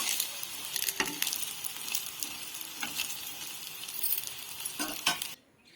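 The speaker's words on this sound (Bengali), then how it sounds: "আবার এর মধ্যে আমি তেল দিয়ে এটিকে ভালোভাবে ভেজে নেব" Pan pitha, a soft winter rice-cake, fries in hot oil with a steady close sizzle and a few faint utensil clinks, cutting off abruptly just before the end.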